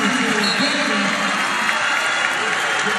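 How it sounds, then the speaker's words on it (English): Basketball crowd at a Drake versus Illinois State game, on its feet with steady, loud cheering and applause filling the arena throughout, with commentary voices underneath. "Crowd on its feet."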